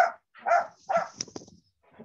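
A dog barks several times in quick succession at a public meeting, the barks fairly close and loud with short gaps between them, followed by a fainter yelp at the end.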